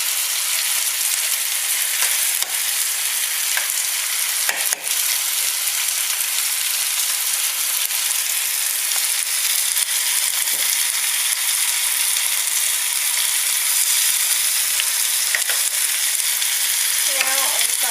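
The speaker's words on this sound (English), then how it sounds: "Quickly give those onions a stir" Onions frying in a pan give a loud, steady hissing sizzle that runs throughout, with a few faint clicks and stirring knocks, close up.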